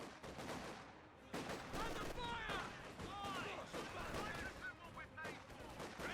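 Vickers machine gun fire in Company of Heroes 2 on the Eindhoven Country map rattles in bursts amid other battle gunfire and effects, with a commentator talking over it.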